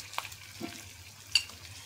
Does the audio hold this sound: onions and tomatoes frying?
yes